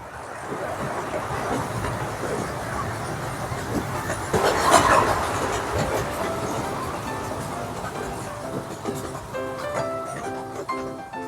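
An amusement park train ride at Knoebels rumbles steadily along with a low, continuous clatter, some faint rattles and tonal squeals rising near the end.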